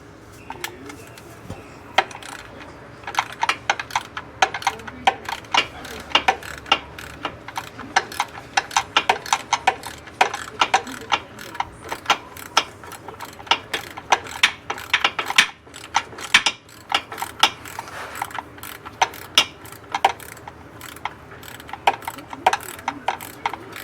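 A ratchet works steadily on torque converter bolts under a 2006 Jeep Commander with a 4.7 engine, giving rapid, close clicking bursts with short pauses between them across the whole stretch.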